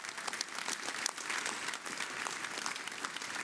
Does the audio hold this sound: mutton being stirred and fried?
no